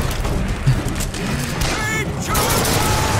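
Grenade launcher shots fired in the video game Bioshock Infinite, a few heavy thumps and crashing impacts over busy game noise, with a voice talking over them.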